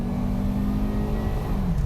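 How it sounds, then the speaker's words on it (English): A 2006 Volvo S60 T5 five-cylinder engine revs hard up close, a throaty loud roar climbing steadily under acceleration. "The 5-cylinder sound gets me every time."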